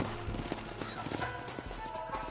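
Horse hooves clip-clopping at a walk in the Red Dead Redemption video game, steady rhythmic thuds under a faint game soundscape.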